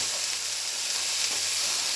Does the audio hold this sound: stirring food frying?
yes